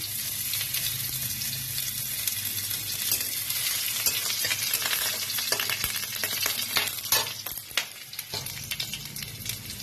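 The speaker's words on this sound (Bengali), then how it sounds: "রসুনটা একটু ভাজা ভাজা হচ্ছে" Garlic fries in hot oil as the base for egg chow mein, a bright even sizzle with occasional stirring clicks, easing off slightly near the end.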